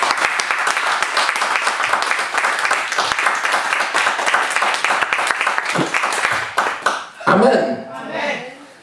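A church congregation applauds loudly and continuously for several seconds, with a voice speaking over the clapping near the end.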